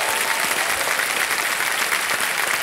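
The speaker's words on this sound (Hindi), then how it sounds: "मैं चाहता हूं कि सब लोग जोरदार ताली बजाएं इन लोगों के लिए।" Studio audience applause on the set of Kaun Banega Crorepati, a dense, steady wash of clapping that stays loud and unbroken from start to finish.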